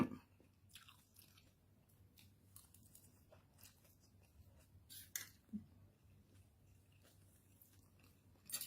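Someone chews a Thai khanom jeen noodle salad up close, with soft, wet bites and a few sharper crunches spaced irregularly over a quiet low hum.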